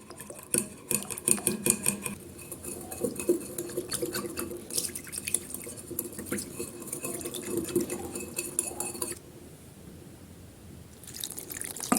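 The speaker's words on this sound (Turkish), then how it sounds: "Salçam tuzlu çünkü ve hemen üzerine sıcak suyumu da ilave ediyorum. Güzelce karıştırıyorum." A spoon stirring tomato paste sauce with hot water in a pot while making cabbage rolls, with repeated scraping and clinking strokes and wet sloshing, then a quieter pause before stirring resumes.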